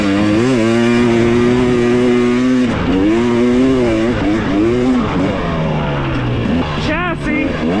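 A 2023 Husqvarna TX300 two-stroke dirt bike revs up and down close by, its engine pitch swinging through several throttle blips, with a voice partly underneath.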